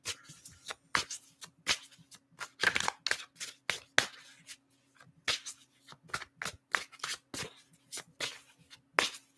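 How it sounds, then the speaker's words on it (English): Tarot cards being shuffled by hand, a long run of crisp, irregular riffling snaps and slaps, close and clear, with brief pauses between bursts. "Some reason I felt like I had to shuffle again."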